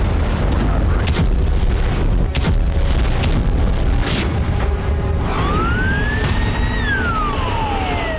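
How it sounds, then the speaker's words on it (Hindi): Explosions at a Ukrainian military base: heavy booms and cracks over a dense rumbling roar, with a rising and falling siren wailing in the second half. "यूक्रेन के किसी बड़े सैन्य ठिकाने पर होते हैं धमाके"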